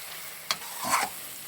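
Pork curry with turmeric powder is stirred in a pan. A few soft scrapes and shuffles sound over a faint, quiet sizzle, with short knocks at the start and end.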